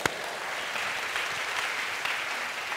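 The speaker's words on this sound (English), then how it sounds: "Round of applause." Audience applause at a workshop-style talk on skills for a human future at work, a steady wash of clapping from a room of people that holds evenly for about three seconds with no voices over it.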